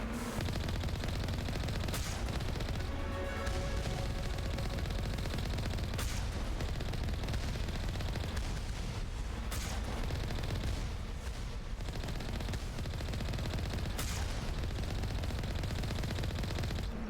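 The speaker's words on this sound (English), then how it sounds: "Yep, they're already shooting rockets at us." Turrets in Mass Effect firing rockets amid dense, continuous gunfire and explosive bursts, loud and sustained for about seventeen seconds, with sharp impacts punctuating the steady barrage and no talk.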